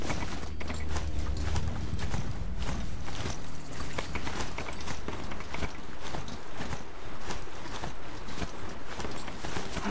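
Robot horse hooves in a video game clip-clop at a steady walking rhythm throughout, continuous and close, over a dense background of ambient sound.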